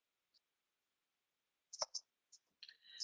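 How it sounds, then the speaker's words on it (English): A handful of sparse, light clicks on a computer keyboard as a short note is typed, irregularly spaced and quiet in an otherwise silent room. "But I'll also type in a note here."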